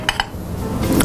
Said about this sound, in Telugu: ఆవాలు కొంచెం చిట్పట్ అనేటప్పుడు